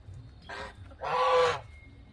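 Geese on a small homestead give two honks, a short call then a longer, louder raspy one, close by against quiet outdoor background.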